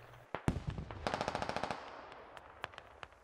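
Gunfire in the video game Squad: a couple of sharp single shots, then a rapid automatic burst of about a dozen rounds, followed by scattered distant cracks, moderately loud with no talk.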